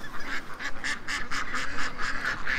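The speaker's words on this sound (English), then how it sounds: "I was coming out just to let the ducks out" Farmyard ducks and geese being let out in the morning, honking and quacking in a rapid, overlapping chorus that repeats continuously and sounds fairly close.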